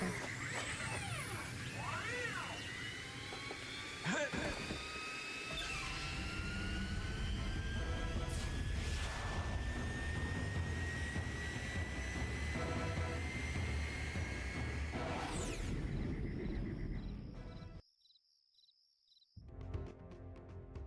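A spaceship in the Star Fox Adventures video game flies with a loud, continuous engine whoosh and rising whine, overlaid with sweeping electronic tones, before dropping to near silence and resuming briefly.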